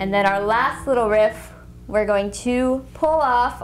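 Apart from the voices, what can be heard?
No everyday noises stand out.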